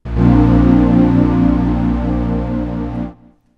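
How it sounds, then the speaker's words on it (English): A sustained synth keyboard chord from Serum 2, two oscillators layered, rich in bright upper harmonics, loud and steady for about three seconds before cutting off abruptly. "you'll now hear oscillator A and oscillator B together"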